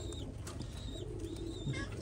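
Soft, low cooing from Salara Golden pigeons murmurs steadily under a busy background of faint chirps and rustling, fairly close and continuous.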